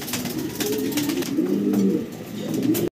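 Pigeons cooing at a pigeon seller's, a close, steady run of low throaty coos overlapping for the whole stretch before cutting off abruptly, with no talking.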